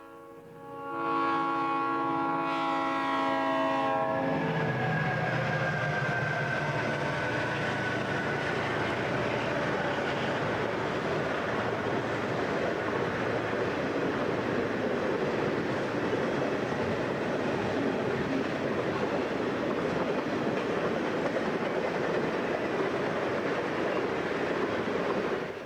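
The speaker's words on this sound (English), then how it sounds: "Another northbound UP intermodal train is next." A northbound Union Pacific intermodal freight train sounds a loud multi-tone horn for a few seconds, then its cars roll past in a heavy, steady rumble and rattle that fills the rest of the long stretch.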